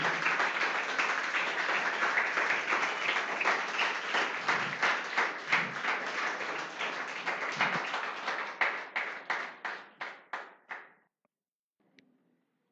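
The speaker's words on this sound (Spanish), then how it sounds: "denle una ofrenda de palmas al Señor" A church congregation gives a round of applause to the Lord, dense clapping that thins into slower, separate unified claps and then stops abruptly, leaving near silence with one faint tap.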